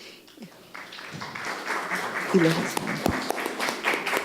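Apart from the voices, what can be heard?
audience applause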